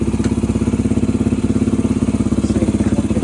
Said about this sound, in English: It runs basically a one kick start.